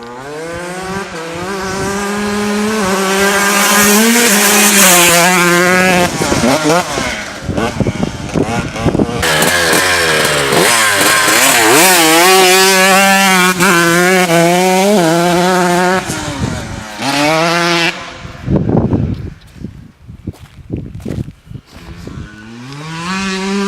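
Honda CR125 two-stroke dirt bike engine while riding, a loud buzzing whine that climbs and drops through gear changes and throttle blips, fading and cutting out toward the end.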